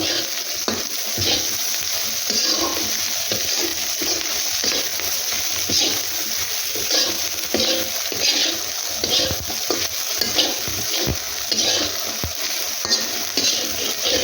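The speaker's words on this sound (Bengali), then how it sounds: "লাল করে ভেজে পেঁয়াজগুলো লাল লাল করে ভেজে নিয়ে আসে এখন আবার সেই মাছ মাছগুলো ভাজা" Dried fish frying with browned onions in a pan, a steady close sizzle with frequent scraping stirs throughout.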